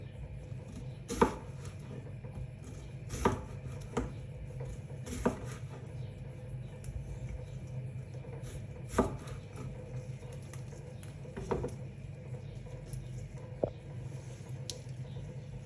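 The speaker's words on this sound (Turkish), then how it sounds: "soymuş olduğum pancarları şimdi doğruyorum" A knife chops through boiled beetroot on a cutting board in sparse, separate strokes over a low steady background hum.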